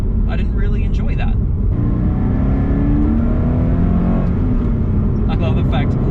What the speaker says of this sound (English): you can floor this thing in second gear in the wet and it doesn't spin